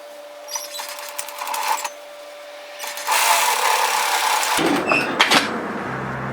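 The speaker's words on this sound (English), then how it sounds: "so just flip it over and sew the other side" A sewing machine stitches a dress seam in short bursts of mechanical whirring, separated by pauses and small handling clicks, close and fairly loud.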